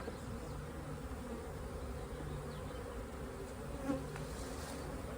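A small swarm of honeybees in a hive box makes a thick, steady buzzing drone up close, with occasional louder passes and a faint soft knock, no talking.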